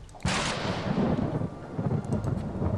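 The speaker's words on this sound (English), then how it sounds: "Ooh, storm is coming." A thunderstorm with lightning and methane rain in the video game Planetbase begins with a sudden loud thunder crack, then a sustained rolling rumble over rain.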